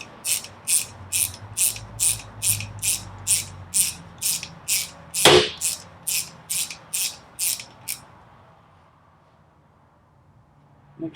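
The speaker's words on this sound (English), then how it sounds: "This one's a ratchet wrench. I'm just going to tighten her all the way down." A ratchet wrench tightens a 19 mm bolt on a WP 4CS motorcycle fork, giving a steady run of close, crisp clicking bursts for about eight seconds, broken by one sharp snap midway, before quiet.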